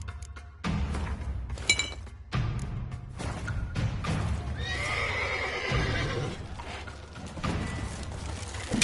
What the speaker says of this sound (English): We grab Roderick's horses and we bolt